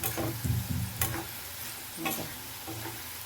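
Crispy karela (bitter gourd) slices frying in a pan: a steady oil sizzle broken by a few scraping stirs and clinks of a spatula, close up, with no talking.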